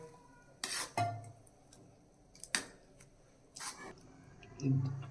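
A spoon scraping and clinking in a pan as warm milk is stirred into grated carrots for gajar ka halwa, in a few separate bursts of scraping with quiet pauses between them.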